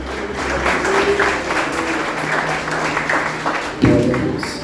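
Church congregation applauding at an evangelism and missions service, a steady dense wash of clapping across the whole stretch with a brief louder burst near the end.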